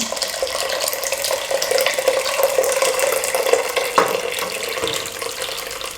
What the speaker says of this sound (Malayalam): അപ്പോൾ നമുക്ക് വെള്ളം ഒഴിച്ചു കൊടുക്കാം.